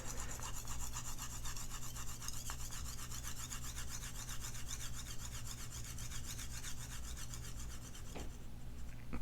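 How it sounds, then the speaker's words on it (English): Spanish steel straight razor, a wedge grind with concave bevels, being stroked on diamond lapping film: a steady, continuous rasping scrape with a faint rhythmic stroke pattern, close and fairly even throughout, no voices. "I'm going to show you first how this Spanish steel will sharpen on the diamond lapping film"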